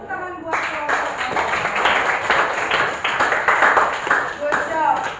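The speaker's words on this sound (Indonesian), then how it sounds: "Tepuk tangan buat kelompok" A classroom of students clapping for a group of classmates after their presentation, a dense, steady patter of many hands filling the room, with voices and cheers mixed in throughout.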